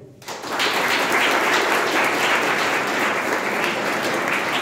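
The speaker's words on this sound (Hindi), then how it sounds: "तालियां होनी चाहिए" Applause from an audience at a polytechnic college talk in Nashik breaks out after a brief quiet moment and keeps going as a loud, dense wash of clapping for several seconds, with no voices on top.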